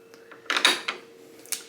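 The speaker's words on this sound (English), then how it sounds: "So there's a little button here, boink, and then you can pull the door out that way." A pocket door in a hotel bathroom at Disney's Coronado Springs resort is unlatched and pulled out of its wall slot, giving a few quiet clicks and short sliding knocks close by in a quiet room.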